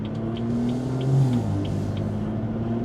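A BMW fitted with an xHP tune and aftermarket exhaust holds first gear, its engine a steady low rumble with one brief swell in revs partway through, heard from inside the car.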